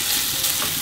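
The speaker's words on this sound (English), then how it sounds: "now the liver has to fry in the shallots and the bacon for 5 to 6 minutes on a medium flame" Chicken liver frying with shallots and bacon in a pan over a medium flame, a steady, close, hissing sizzle with no voices over it.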